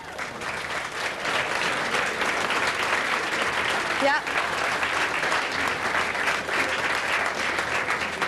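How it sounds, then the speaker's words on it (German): Sustained audience applause for Robert Palmer fills the whole stretch, a dense steady roar of clapping with a brief voice cutting in near the middle. "Ein Applaus für Robert Palmer."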